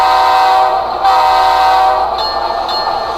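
Onboard sound from a Rapido Alco PA model locomotive fitted with a TSU-21PNEM8 decoder: a loud, steady diesel drone with a bright horn blast layered on top and some rail-like texture, with no voices.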